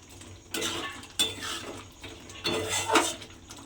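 A spoon scrapes and stirs through white ghugni pea curry in a metal pan as garam masala powder is mixed in, about four loud, close scraping strokes with clinks against the pan.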